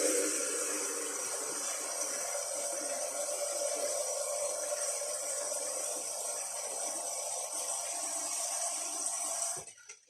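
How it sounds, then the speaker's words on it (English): A couple of pints of water poured into a soup pot of vegetables, a steady splashing rush that runs continuously and stops abruptly at the end. "into this now we're going to add a couple of pints of water"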